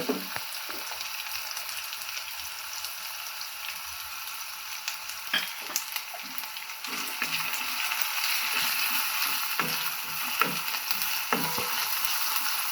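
Onions fry in oil in a pan with a steady sizzle, broken by occasional clicks and stirring scrapes, growing slightly louder toward the end.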